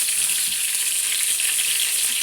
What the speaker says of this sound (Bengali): এখন আবার ফ্রাই করে লাইছি